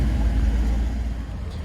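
A Maserati MC Stradale supercar arrives at a supercar gathering, a steady low engine rumble held close and fairly loud for a brief moment.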